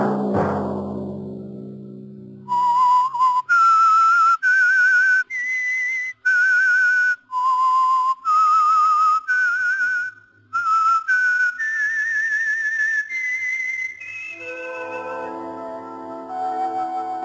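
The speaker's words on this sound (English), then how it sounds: "Let that whistle be your signal each Sunday for the Whistler." The theme tune of The Whistler radio show, a clear solo whistled melody of sustained notes and short pauses, close and prominent, preceded by a fading low chord and ending as soft orchestral music enters.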